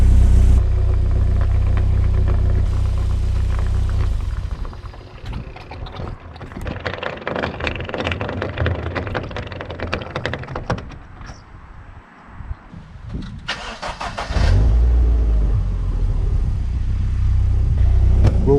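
An MG TF sports car engine idles after the cooling system is bled, a steady low rumble close by with clicks and rattles through the middle and a brief rev.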